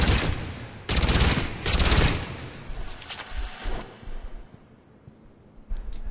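Rapid bursts of Shuriken gunfire in Mass Effect 3, loud and dense, in several sustained volleys separated by brief pauses, with a final short burst near the end.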